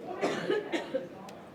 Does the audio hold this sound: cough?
yes